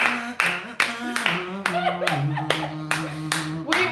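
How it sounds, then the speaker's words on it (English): Several hands clapping in a steady rhythm that speeds up, like churchgoers keeping time, heard close, with a voice talking over the claps throughout. "I'm even clapping like a white person too."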